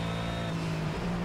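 A race car engine at a steady high drone during a lap in the racing game Project Cars, loud and continuous with a slight pitch shift near the end.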